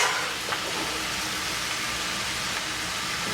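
Potatoes O'Brien frying in a hot pan, a continuous even sizzle with faint stirring scrapes, close and steady throughout.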